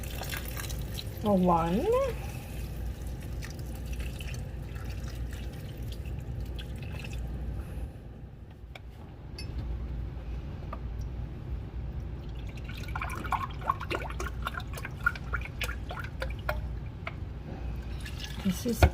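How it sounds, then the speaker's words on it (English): Vegetable stock poured into a pot of vegan split pea soup, a soft liquid splash and dribble under a faint word, with further light splashing and trickling later on. "Now I have to put in here 6 cups of vegetable stock."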